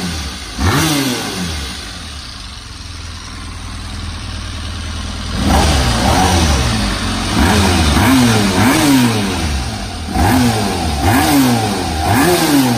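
A Honda RC30 VFR750R race-bred street motorcycle sits parked as its engine is blipped repeatedly, loud close revs rising and falling in quick successive bursts over a rumbling idle.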